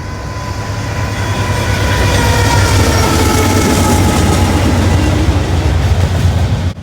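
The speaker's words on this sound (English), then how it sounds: "BNSF 3988 West, a stack train, was audibly clawing for every foot it could take on the high iron." A BNSF westbound double-stack freight train led by a GE ET44C4 locomotive labors past up close, a loud, sustained roar of engine drone and rolling wagons with faint clickety-clack, holding steady for several seconds before cutting off.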